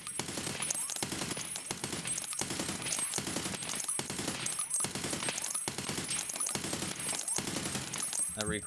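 Rapid automatic gunfire from a weapon in a video game, steady repeated bursts of shots for several seconds, close and loud, with occasional speech over the shooting.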